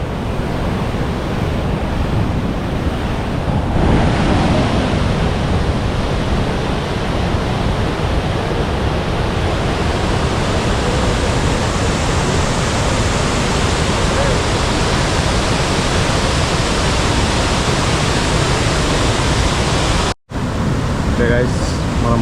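Bogatha waterfall in heavy flow, a loud, steady broadband roar of rushing water that fills the whole stretch without letup, close by, with a brief dropout near the end.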